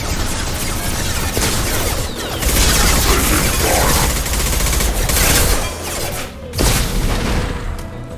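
Weapon fire from the Mass Effect 2 Legendary Edition video game comes as a dense, loud barrage of shots and booms that continues almost without a break, with a few brief gaps near the end.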